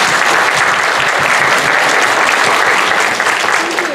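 A crowd at a regional congress claps loudly and continuously, a dense, steady wash of applause filling the room without letting up.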